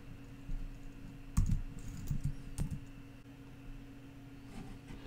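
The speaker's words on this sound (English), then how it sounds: "type in our license key" Quiet clicking of keys on a computer keyboard as a license key is typed, a brief cluster of light taps near the middle over a steady low hum, then stillness.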